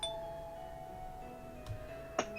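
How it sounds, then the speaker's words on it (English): A doorbell at a house rings once, a soft faint chime near the end over a low steady background hum, with a fainter tap just before it. "Putting all my doubts and misgivings aside, I rang the doorbell."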